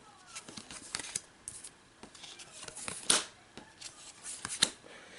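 A hand of Marvel Champions cards drawn from the deck at a tabletop game, with soft close-up slides, flicks and snaps of card stock in irregular bursts, a couple of sharper clicks, and no talking.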